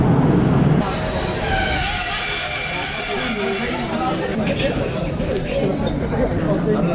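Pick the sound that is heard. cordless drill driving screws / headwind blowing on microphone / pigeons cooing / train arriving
train arriving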